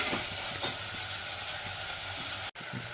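Carrot and potato pieces frying in oil for vegetable pulao give a steady, close sizzle with faint stirring scrapes and a brief break near the end, with no talking.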